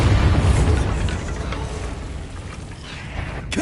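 The Bombarda explosion spell in Hogwarts Legacy, a single deep blast at the start with a low rumbling tail that slowly fades, no talking.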